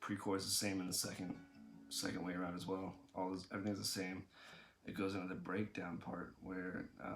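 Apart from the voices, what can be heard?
No everyday noises stand out.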